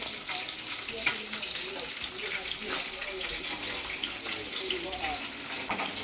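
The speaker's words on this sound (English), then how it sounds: "Water." Steady rush of water running from a tap, continuous and fairly close, with faint clinks and movement mixed in.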